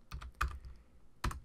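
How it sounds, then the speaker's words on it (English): Keys click on a computer keyboard as a value is typed in. Three quick clusters of crisp, close keystrokes sit in near silence. "Let's just type that in."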